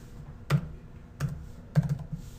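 A few separate keyboard clicks tapped on a computer while entering a date into an ophthalmology order-entry program, sparse and fairly quiet over low room hum, with no voices.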